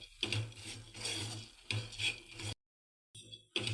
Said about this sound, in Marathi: मंद आचेवरतीच ही डाळ आपल्याला मस्त खरपूस होईपर्यंत भाजून घ्यायची आहे